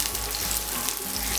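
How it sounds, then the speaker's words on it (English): Yellow zucchini and asparagus crackle in melted ghee in a pan, giving a brief, dense, close-up sizzle that holds steady throughout. "Once the ghee has melted, we are going to add 2 tablespoon yellow zucchini and asparagus."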